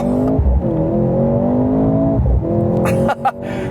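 Mercedes-AMG C43 accelerating hard, its engine note climbing steadily and loud up close, with a brief gear-change dip and a short exclamation near the end.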